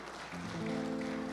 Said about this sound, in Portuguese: Elas merecem mais aplausos, pode aplaudir as mamães.